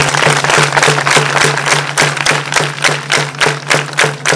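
Applause at a community aid event, a crowd clapping in a loud, fairly rhythmic unison pattern that continues steadily, heard close.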